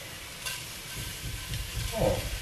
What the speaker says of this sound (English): Starting with a little bit of olive oil, just going to sweat down my onions lightly.